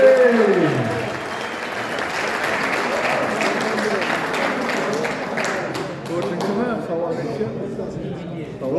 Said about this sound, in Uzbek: Ha, qarsak-qani, qarsak.